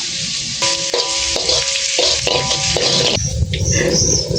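Food sizzles and fries loudly and close in a pan during cooking aboard a barge, a steady hiss broken by stirring and scraping, with tonal beeps sounding over it in short bursts.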